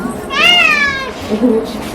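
Cat at a cat farm letting out one loud, close meow that rises and falls, followed by a softer short vocalization, with people talking faintly around it.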